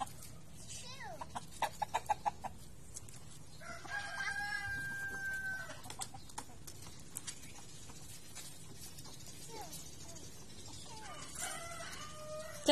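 Hens clucking and a rooster crowing nearby over steady outdoor background noise, with scattered calls throughout.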